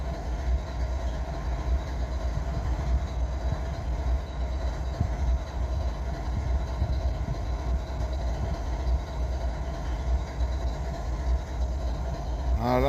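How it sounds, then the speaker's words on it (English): A switcher locomotive running in reverse through Abbeville with a wide-body cab, its steady diesel rumble droning continuously at moderate distance, with no talking. "the engineer's sitting in the seat backwards to run the locomotive backwards"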